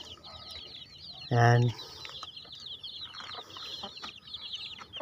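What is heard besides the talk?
Rhode Island Red and Black chickens clucking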